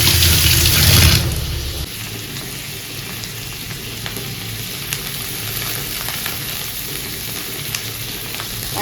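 Onion and tomato frying in oil in a kadai, a steady close sizzle with faint clinks of stirring, louder in the first second or so and then settling into a continuous crackle.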